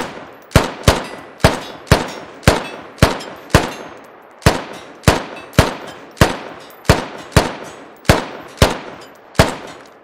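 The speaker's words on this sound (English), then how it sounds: "we're gonna shoot the AK here, and you're gonna listen to the sounds here" AK rifle fire in the video game Squad: about twenty single sharp, punchy shots at a steady pace, each with a short ringing tail, loud and close with no talk.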